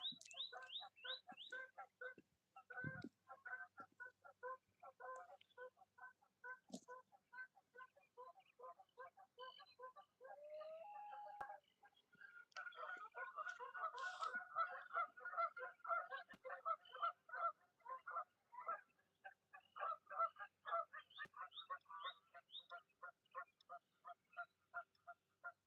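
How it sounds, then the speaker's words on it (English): Geese on an island honk in a long, busy chorus of repeated calls, rising and falling in clusters, some close and some farther off, with no talking heard over them. "Right now, you only hear the noise of the geese."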